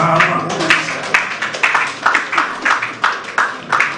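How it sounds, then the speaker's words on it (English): A crowd applauds at the unveiling of Ghana's team for the Glasgow 2025 Commonwealth Games, a steady, moderately loud round of clapping with rhythmic pulses and a faint voice underneath. "let's give a round of applause"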